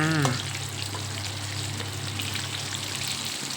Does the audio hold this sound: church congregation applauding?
no